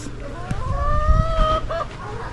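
Chickens cluck and call nearby at a backyard coop in Florida, with a drawn-out crowing cry rising through the middle, over low background noise.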